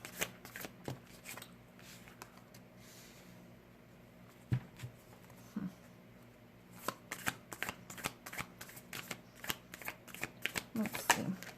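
Tarot cards being shuffled by hand, soft papery riffles and taps that grow busier and louder toward the end, close up with a faint room hum.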